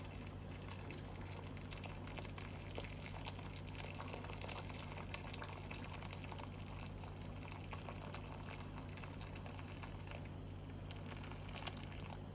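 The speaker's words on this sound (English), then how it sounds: "I am going to add some more hot water, and then I'm going to bring this up to a boil." Water coming to a boil in a kitchen pot for corn cob jelly, a steady dense bubbling and hiss that runs unbroken for the whole stretch, with a constant low hum beneath and no talk.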